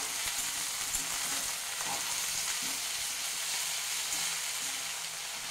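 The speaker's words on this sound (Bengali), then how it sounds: "এবার এটাকে আবার একটু নেড়ে চেড়ে" Bottle gourd greens with sliced potato and two slit green chillies being stirred in a pan, a steady close sizzle of frying with occasional soft scrapes of the spatula throughout.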